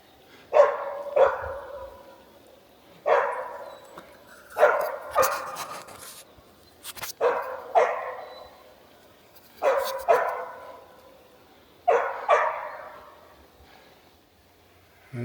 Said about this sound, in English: Which is why Kenai is barking.